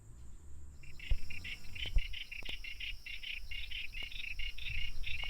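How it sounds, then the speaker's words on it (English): Burrowing frogs calling at dusk in the Australian bush, a close chorus of rapid, pulsing high chirps that starts about a second in and keeps going over a soft outdoor background. "You hear that? Burrowing frogs."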